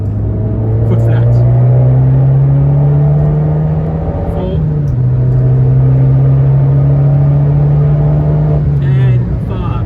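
Abarth 595 engine pulled hard at full throttle from inside the cabin, a loud rising drone that climbs, dips briefly at a gear change, then climbs again, with someone talking over it.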